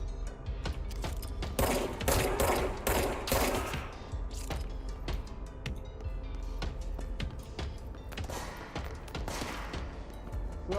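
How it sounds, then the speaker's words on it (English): Gunfire in the video game Control crackles in rapid bursts, dense rattling shots clustered early, then thinner sporadic volleys, fairly loud and close throughout. "Who else is shooting?"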